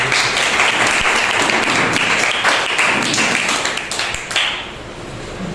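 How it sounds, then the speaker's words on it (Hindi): A church congregation at a Sunday morning service claps loudly and vigorously, a dense wash of overlapping hand claps that holds strong and then thins and fades slightly toward the end. "आइए हम उस सच्चे और जिंदा खुदा की जोरदार ताली बजाएं।"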